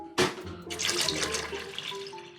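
Distilled water pumped through a filter loop and poured back into a bucket, a sudden splash followed by a steady, close rush and trickle of water with no talking.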